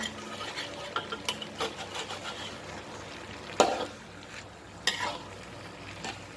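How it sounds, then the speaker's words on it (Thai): Chilies are stir-fried in a pan for Southern Thai khua kling pork, with a spatula scraping and stirring in a steady rhythm over a low sizzle, punctuated by a few louder clanks. "ผัดพริกยังไม่สลดเด้อจ้ะ"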